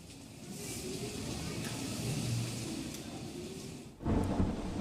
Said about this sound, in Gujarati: સતત વરસાદ વરસી રહ્યો છે